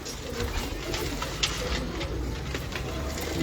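Pigeons coo at a gudda breeder's loft, soft low murmurs blending into a continuous busy background of birds, with no talk over it.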